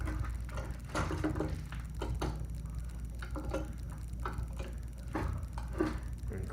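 A rolled metal ring is twisted and shimmied into alignment by hand, giving a steady run of close, irregular metallic ticks and scrapes throughout.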